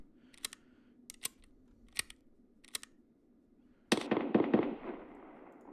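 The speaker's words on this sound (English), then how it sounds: "There's a lot of shooting going on, and it's not too far from us actually." Gunfire in the Escape from Tarkov video game, single-player raid: several sharp isolated shots crack at intervals, then a denser burst of rapid shots, fairly quiet and somewhat distant.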